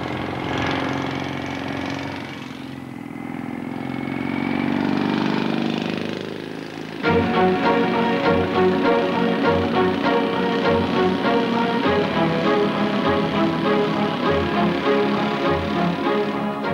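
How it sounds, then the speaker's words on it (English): Engine of a small British microcar prototype revving up loudly and running on, a rough, buzzy mechanical roar that grows sharply louder midway and stays close and steady with no talk. "For such a small car, it makes an indecent amount of noise, I'm afraid."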